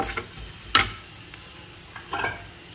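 Spices, including cumin, sizzling and being stirred in a pan before radish goes in, with a sharp scrape or clink near the start and soft intermittent stirring and frying noises, quiet and close, no talk.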